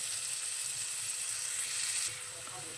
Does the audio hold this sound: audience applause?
no